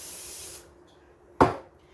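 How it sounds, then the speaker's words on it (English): Cookie release spray sprayed into a baking pan: one smooth, close hiss lasting about half a second, followed by quiet and then a single sharp knock. "I'm gonna spray a little cookie spray in here so to help release the dough."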